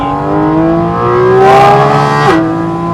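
A Porsche sports car engine, likely a GT3 RS or GT4 RS, revs hard while driving, climbing in pitch to a loud peak before a sharp shift drop, close and continuous with no talk.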